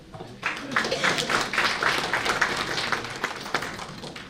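Audience applause at a university graduation convocation in Ajmer, a steady dense patter of many hands clapping continuously at moderate volume, with a faint background voice mixed in.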